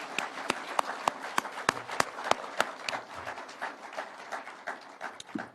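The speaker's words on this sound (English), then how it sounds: "I think these good people deserve a clap" A small audience at a political address claps in scattered, distinct hand claps. The claps come in a fairly regular rhythm at first, then thin into softer, uneven claps, heard moderately close.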